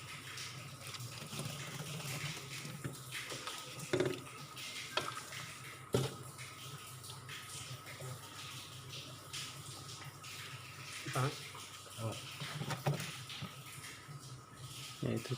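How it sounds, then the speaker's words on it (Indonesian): Water streams steadily to rinse built-up ice off the evaporator of a Samsung inverter refrigerator, a moderate running splash with occasional drips and clunks, heard close. "Kita siram aja terus sampai bersih"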